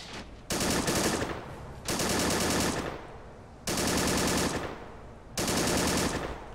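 Machine gun fire in Men of War Assault Squad 2, four long loud sustained bursts, each lasting over a second, separated by short gaps of echoing decay.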